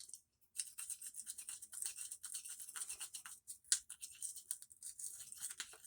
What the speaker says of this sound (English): So usually I'll take this smaller toothbrush and I go like in the back of my mouth.